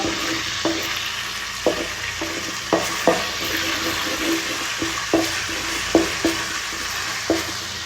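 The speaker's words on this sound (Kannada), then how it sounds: "ಶುಂಠಿ ಬೆಳ್ಳುಳ್ಳಿ ಪೇಸ್ಟ್ ಹಾಕ್ಕೊಂಡು ಫಸ್ಟ್ ಅದು ಹಸಿ ವಾಸನೆ ಹೋಗೋಷ್ಟು ಹುರ್ಕೊಳ್ಳೋಣ" Ginger garlic paste fries in a pan with a steady hissing sizzle, broken every second or so by sharp clinks and scrapes of a spoon stirring it.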